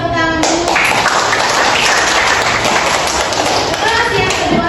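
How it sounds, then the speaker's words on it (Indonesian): Applause breaks out in a classroom during a lesson on marriage for a teacher performance test, dense clapping filling the whole stretch at steady loudness with chatter mixed in. "Beri tepuk tangan dulu."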